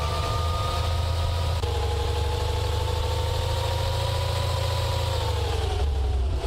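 A vehicle engine in the zombie survival game 7 Days To Die drones steadily while driving through a city, a loud continuous mid-pitched hum with slight shifts in tone as speed changes.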